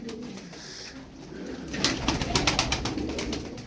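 Crested coop pigeons coo softly, then a burst of rapid fluttering pulses follows, close and moderately loud, with no speech.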